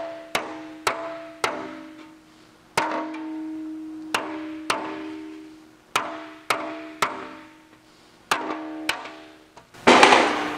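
Hammer blows on Jaguar E-Type fender sheet metal, a dozen ringing metallic clangs in an uneven rhythm, each leaving a bright resonant tail, close and loud, ending in a burst of harsher noise.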